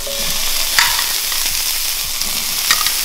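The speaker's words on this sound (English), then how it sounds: "Oh, listen to that sizzle." Close, steady sizzling of fingerling potatoes frying in hot oil, with occasional crackles and the light scrape of stirring.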